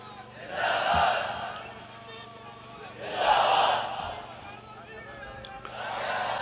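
At a religious conference on the honour of the Prophet, a large crowd roars out slogans in two loud swelling bursts, with a third rising at the end, separated by quieter murmuring.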